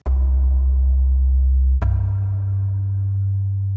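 Analog Dreams synth ear-candy sound in Kontakt Player: a deep sustained bass drone that drops into a lower throbbing tone after a sharp click partway through, with no voices.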